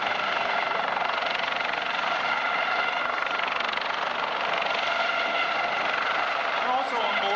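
A US Coast Guard rescue helicopter at the 1995 Valiant Air Command air show, its rotor and turbine making a steady, loud broadband roar that continues unchanged, likely with an announcer's voice underneath.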